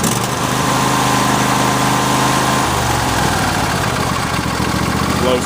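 A Briggs & Stratton small engine, its starter just repaired, runs at full speed with the choke on. It makes a loud, steady close-up putter that shifts pitch partway through.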